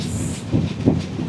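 Purushottam Express on the New Delhi to Puri route, a steady rumbling rail roar with soft rhythmic surges from the wheels, close and continuous throughout.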